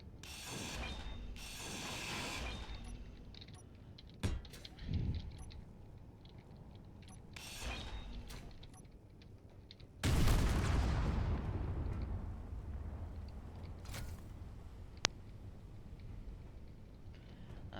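In Space Engineers, missiles blow up a turret: a sudden heavy blast erupts and decays into a long rumbling roar, preceded by scattered mechanical clanks, bursts and whooshing game noises, with a sharp click near the end.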